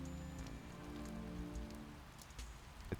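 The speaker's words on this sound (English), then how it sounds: "Listen to the rain." Steady rain falls and patters on a surface, with scattered drop taps over a continuous soft hiss and no talking.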